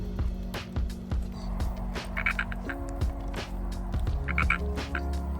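A frog croaks in repeated bursts near a fire at a junkyard, with steady low rumble and crackle throughout and some brighter chirps in the middle and near the end.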